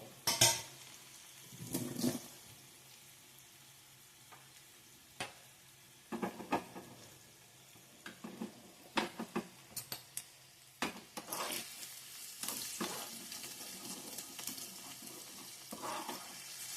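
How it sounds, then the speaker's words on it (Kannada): Garlic frying in oil for a mix greens sambar gives a soft, steady sizzle punctuated by irregular clicks and scrapes of a utensil stirring in the pan, fairly quiet throughout. "ಬೆಳ್ಳುಳ್ಳಿ ಗೋಲ್ಡನ್ ಕಲರ್ ಆಗಬೇಕು ಚೆನ್ನಾಗಿ ಫ್ರೈ ಮಾಡ್ಕೊಬೇಕು"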